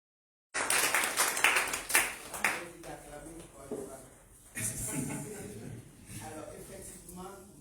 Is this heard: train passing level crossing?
no